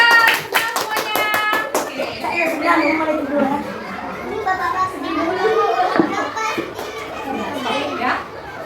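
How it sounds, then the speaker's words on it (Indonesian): Schoolchildren in a fourth-grade classroom clap for the winning team during a quiz game, a quick burst of rhythmic, close claps at the start, then lively children's chatter and voices fill the rest. "Tepuk tangan buat tim 3."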